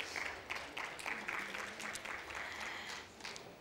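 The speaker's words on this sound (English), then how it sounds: "One last round of applause." A seminar audience applauds steadily at moderate volume, many hands clapping in a dense, sustained patter that holds for several seconds without a break.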